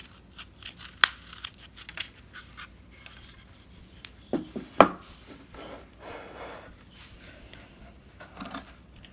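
A knife carves a wooden coonhound figure, taking small shavings, heard as faint, sparse scraping and slicing strokes with a few sharper cutting clicks spread irregularly over a quiet background.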